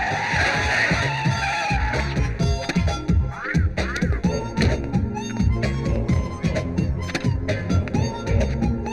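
A car skidding hard to a stop in a Tamil-dubbed film scene, with screeching tires, engine noise and dramatic music layered over the skid, loud and close.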